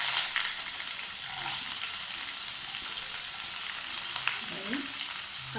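Curry leaves and chopped onion fry in a pan while poha upma is being made, giving a steady close sizzle with faint stirring scrapes throughout.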